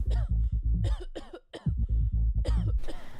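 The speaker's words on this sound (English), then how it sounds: "More hacking coughs escaped Ethel's throat, more dry, rasping wheezes." A long run of harsh, hacking coughs, loud and close, in rapid bursts with brief gaps and a raspy, wheezing edge, heard alone with no talk.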